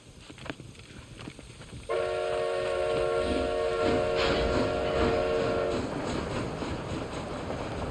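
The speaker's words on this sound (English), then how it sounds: "This train headed for Mexico?" Train in the video game Red Dead Redemption: Undead Nightmare, starting with low rumbling, then a loud, sustained steam whistle blast for about four seconds over continuous rolling rail noise.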